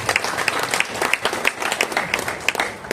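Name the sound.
audience applause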